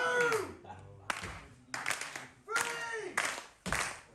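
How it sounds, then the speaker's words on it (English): A wrestling crowd at a hardcore match claps in rhythmic bursts, several rounds of hand-clapping rising and stopping, fairly faint and distant in the hall. "Crowd rallying up here, and I truly believe that they're rallying up behind the Banshee."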